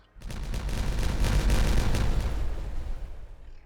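Explosives detonate in the beaver colony game Timberborn, a single broad rumbling blast that swells quickly, holds for a couple of seconds and then fades out.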